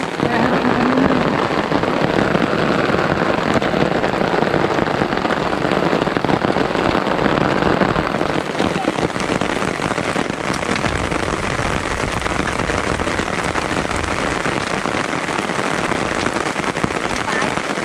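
Heavy rain pelts a surface in a loud, dense, continuous patter, with voices faintly present beneath the downpour.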